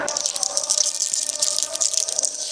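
Water is scooped and drained from a large pot of Kerala-style chicken biryani in a steady, close splashing and trickling wash that lasts throughout.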